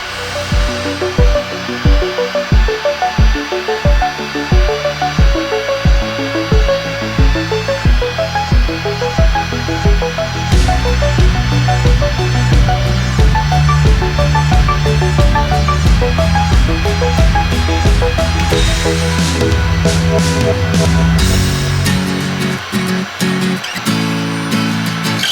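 A heat gun strips several layers of old paint from wood, giving a steady, loud blowing roar that runs without a break, with shifting tonal hum layered over it.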